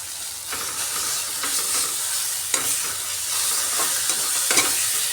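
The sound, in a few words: powdered spices frying and stirred in pan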